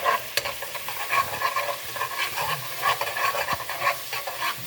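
Red pepper and tomato fry in a pan with a continuous close sizzle and repeated stirring scrapes in an uneven rhythm, with no voices.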